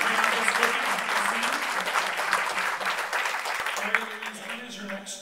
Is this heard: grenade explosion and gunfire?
no